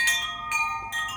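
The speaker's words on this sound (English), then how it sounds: "we're going to start by ringing the chimes" Bright, close chimes ringing in three overlapping struck notes with sustained, shimmering metallic tones, loud at first and fading between strikes, with no voice.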